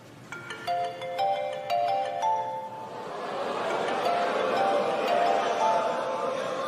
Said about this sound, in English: Go on and answer your phone